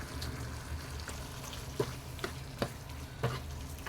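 Chicken fry being stirred in a pan, a few soft scraping clicks of a spoon spaced out over a low steady frying hiss, close and fairly quiet with no talking.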